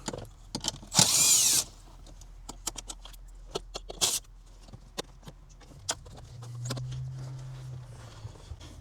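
A power tool whirs in short bursts while removing screws from the dashboard of a 2017 BMW 7 Series, with two brief loud buzzes, scattered metallic clicks and taps, and a longer low hum near the end.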